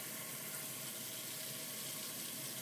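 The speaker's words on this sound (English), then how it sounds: "Throw it into a sink, add 3 tablespoons of apple cider vinegar, just to help clean the vegetables off." Water pours steadily into a kitchen sink where vegetables are being washed with apple cider vinegar. The rushing, hissing flow is close and even throughout, with no voices.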